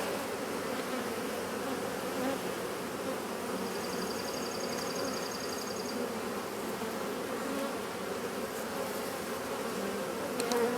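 Honey bees swarming around a swarm trap at a lake, a continuous dense buzzing hum close by with individual bees droning past, no talking.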